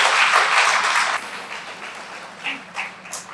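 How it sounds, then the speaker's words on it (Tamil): An audience claps for the finalists of a televised cooking competition, a full burst of applause that fades after about a second, leaving a few scattered claps and light sounds. "உங்களுக்கு ஒரு மிகப்பெரிய கைத்தட்டல் ஒன்று கொடுத்துக்கலாமே"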